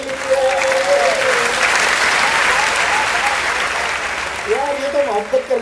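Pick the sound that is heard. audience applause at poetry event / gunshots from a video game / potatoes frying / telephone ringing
audience applause at poetry event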